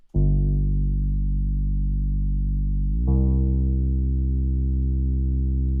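A thick, buzzing synth bass holds one low note, then jumps to another after about three seconds, sustained and loud with a gritty, distorted edge.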